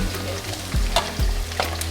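Coconut sizzling in a hot pan, loud and close, with periodic scraping strokes of stirring breaking the steady fry, while making coconut rice.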